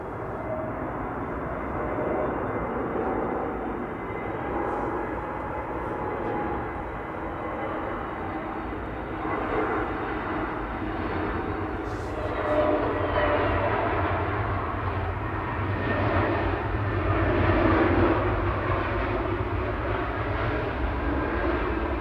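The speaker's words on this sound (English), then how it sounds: "the Lanzarote arrival for Jet 2 flight LS892" Jet2 airliner arriving from Lanzarote at Manchester Airport, its engines a broad, steady roar that holds and swells slightly as it passes, heard from some distance with no talk.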